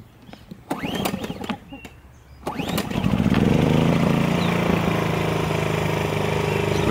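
Ryobi RYi2200 inverter generator pull-started: a few rope-pull rattles, then the engine catches at about three seconds and settles into a steady, fairly quiet running hum nearby, with a voice briefly heard early on.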